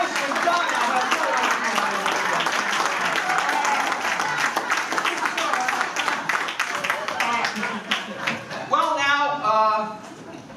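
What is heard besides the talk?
audience applause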